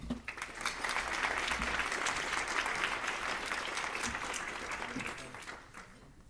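A seminar audience gives a speaker a steady round of applause, many hands clapping together at moderate distance for several seconds before it tapers off.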